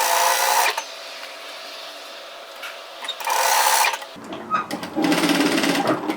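A sewing machine stitches a zip into a knit hoodie fitted with hem tape, running in two loud bursts of steady whirring with a pause between them, then more mechanical clatter and handling noise.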